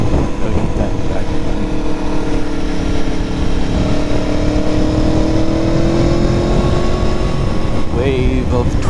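An Aprilia Tuono motorcycle accelerates on a winter road, its engine note climbing steadily beneath a loud, constant roar of wind buffeting.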